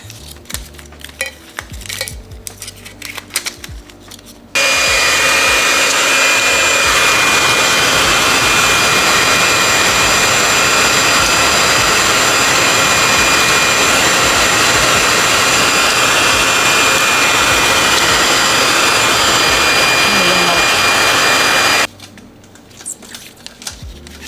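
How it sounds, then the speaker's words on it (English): A heat gun blows a loud, steady rush of hot air continuously for several seconds, starting and stopping abruptly, with quieter handling noises before and after, while heating a jar for pickling. "You gotta heat it up with the heat gun or blow dryer or whatever you got."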